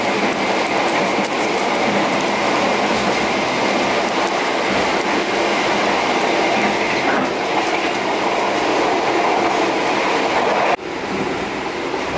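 A long passenger train of 14 carriages and one locomotive rolls past nearby with a continuous loud rumble and rattle of wheels on track, a brief screech partway through, then a sudden shift in tone.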